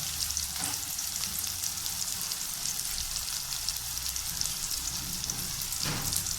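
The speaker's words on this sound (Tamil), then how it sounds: "பெரிய சைஸ் வெங்காயம் ஒரு நாலு நல்லா சின்ன சின்னதாக கட் பண்ணி அதையும் ஆயிலில் சேர்த்துக்கலாம் வெங்காயம் நல்லா வதங்கணும்" Finely chopped large onions frying in oil for a village-style sardine curry, a steady dense sizzle like rain, close and even throughout with a brief stir near the end.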